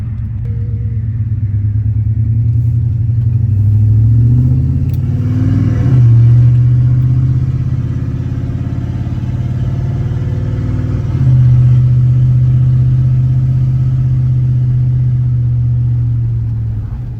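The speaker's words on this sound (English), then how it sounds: "midway through my acceleration, I'm gonna open up the exhaust cutout" A GMC Sierra truck accelerates with its exhaust cutout opened partway through. The low, loud engine drone climbs in pitch across several gear changes, then jumps to a fuller, louder roar near the end and holds steady. There is no talk.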